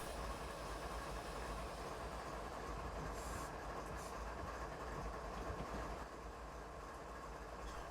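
A CP locomotive hauling a train rolls along Norfolk tracks in Train Simulator 2019, a steady muffled rumble and wheel noise with faint clicks, continuous and even for several seconds.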